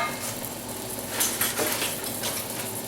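Meat and rice cabbage-roll stuffing scooped into hot oil in a pan fries with a steady close sizzle and crackle, along with occasional light clinks of a utensil against the pan.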